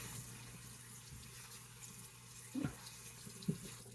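A tap runs quietly to rinse a straight razor and an 8K sharpening stone, a faint steady stream with a couple of brief splashing clunks near the end, no talking.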